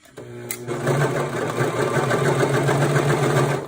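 A sewing machine runs steadily for several seconds, stitching through two layers of fabric for a car trash bag, with a loud, even mechanical whir and a rhythmic needle pulse close by.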